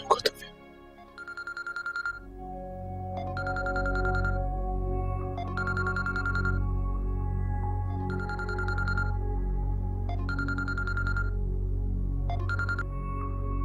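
A phone rings in a Pakistani drama scene: an electronic ringtone repeats in about six evenly spaced bursts over a low background hum, after a short sharp sound at the start, with no speech.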